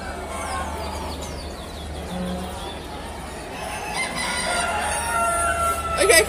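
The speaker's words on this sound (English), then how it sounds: "Chickens, but not big chickens." Chickens and roosters in cages at the Ekka Royal Queensland Show, with crowing and clucking over a busy crowd murmur and nearby voices, the bird calls fairly faint and intermittent.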